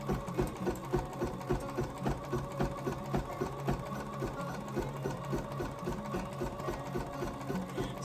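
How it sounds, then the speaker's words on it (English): Embroidery sewing machine stitching a satin stitch on a place mat, a steady fast mechanical whirring and clatter that continues evenly and close throughout without talk. "It's gonna do satin stitch now"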